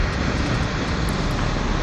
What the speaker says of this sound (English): car, your exhaust is a little obnoxious.